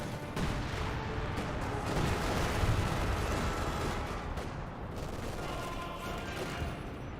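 Massed 25-pounder artillery fire in the video game Company of Heroes 2: a dense, continuous barrage of overlapping booms and blasts that stays loud and steady throughout.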